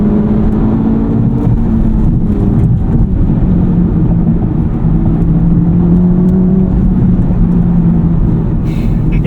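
A 2025 Audi RS3 accelerates on a night drive, heard from inside as a loud, continuous low engine roar blended with road and tyre rumble, the pitch slowly climbing.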